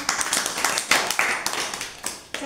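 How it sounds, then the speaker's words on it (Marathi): Children in a classroom collage-making craft session clap their hands in a quick, uneven burst of sharp claps close by, with a few faint voices mixed in. "छान, टाळ्या वाजवा."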